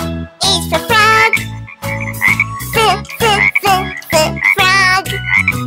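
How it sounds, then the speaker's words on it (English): Loud, close frog croaks in a children's phonics song, a series of repeated throaty, rattling calls in quick rhythmic bursts with short gaps between them. "F is for frog."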